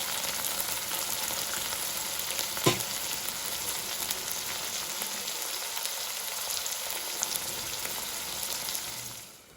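Prawns sautéing in a pan for prawn pulao make a continuous close frying hiss with a single sharp clink, fading out at the very end, no talking.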